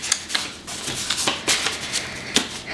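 Playing cards shuffled close by in a quick series of sharp crisp riffles and slaps, fairly loud and alone.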